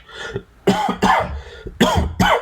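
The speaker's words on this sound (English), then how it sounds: "I know I'm coughing" A man coughs several times in quick harsh bursts, loud and close, with a short pause in the middle.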